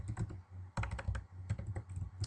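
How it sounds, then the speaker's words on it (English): Rapid clicking of keys on a computer keyboard, close by, in quick uneven bursts with short pauses between them. "Go ahead and start typing it."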